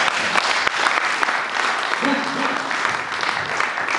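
A church congregation claps and cheers steadily for about four seconds, a dense, close wash of applause, with a preacher's voice briefly audible through it.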